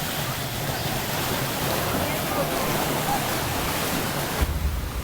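Ocean surf on a Hawaiian beach makes a steady, broad roar that stays loud and even throughout, with no distinct breaks between waves.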